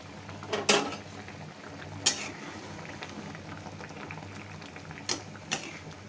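Fish curry simmers in a pot with a low, steady bubbling and hiss. A few sharp clinks of metal against the pot cut through it, faint and close.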